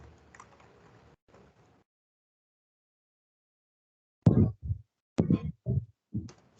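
Typing on a computer keyboard, heard as a few soft, scattered clicks followed by a short silence and then several louder, close keystroke thumps in quick bursts.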